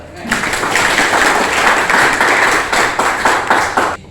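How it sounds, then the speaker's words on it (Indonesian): Indonesian classroom of pupils clapping together for a few seconds, a dense, steady patter of many hands that stops abruptly near the end. "Tepuk tangan dulu."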